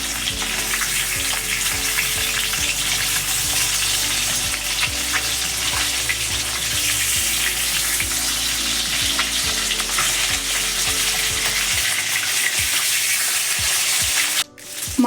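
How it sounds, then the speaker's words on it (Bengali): After being flipped, rui fish pieces sizzle in hot oil with a loud, continuous crackle and pops close by, then the sound cuts off near the end. "এক সাইড হয়ে গেছে উল্টে দিচ্ছি মাছ"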